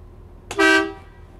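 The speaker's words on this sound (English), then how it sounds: "I have my air horn" A school bus air horn sounds once during a pre-trip inspection, a loud, brief, harmonically rich blast lasting about half a second, rising sharply and fading with a short tail, with no talk over it.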